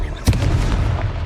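A Confringo blasting spell explodes in the Hogwarts Legacy video game, one sharp close boom followed by a rumbling tail.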